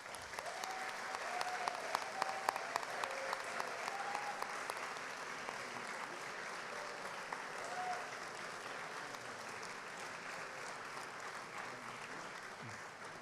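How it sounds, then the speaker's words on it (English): An audience at the Biennale Architettura 2025 awards ceremony applauds Donna Haraway, with steady, dense clapping from a large crowd that holds for the full stretch. "A big applause for Donna."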